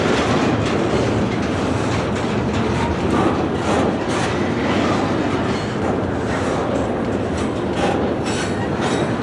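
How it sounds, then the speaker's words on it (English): A CSX freight train slows over a switch at 5 to 10 miles an hour, its brakes hissing and grinding under a steady, loud clatter of wheels on rail, with faint squeals rising now and then, close by and continuous. "that's the brakes, he's applying the brakes"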